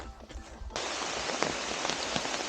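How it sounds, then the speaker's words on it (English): Rain coming down on a forest hiking trail between a campsite and a shelter, a steady dense hiss of drops that swells suddenly after a quieter start and continues evenly throughout. "Rain came down, or is coming down"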